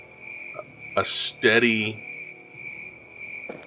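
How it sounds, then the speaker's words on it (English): Crickets chirp steadily and without pause throughout a night scene in the video game Malavision: The Origin, a thin continuous drone that runs under a person talking. "sound of crickets wherever I go."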